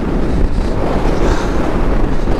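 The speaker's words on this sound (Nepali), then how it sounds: "अहिले चाहिँ पुरै हावा छ" Strong wind roars steadily against the microphone during a solo motorcycle ride through snowy Upper Mustang, a loud, constant rushing with no voices.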